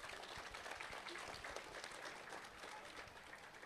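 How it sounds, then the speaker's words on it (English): An audience claps for Kyle at a Biltmore Angus cattle and Dorper sheep event in Asheville, North Carolina: a dense, steady round of applause from a crowd, close and fairly loud, lasting the whole moment. "Can we give Kyle a round of applause?"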